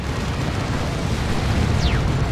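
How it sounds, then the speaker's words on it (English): Plasma cannon explosions from a Dawn of War 2 battle, heard as a continuous rumbling, eruptive roar that stays steady and dense throughout, with a faint descending whine cutting through near the end. "Plasma Cannon doing so much damage here."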